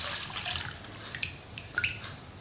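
Homemade rice milk strains through a cheesecloth bag, giving a faint close trickle with soft irregular drips and splashes.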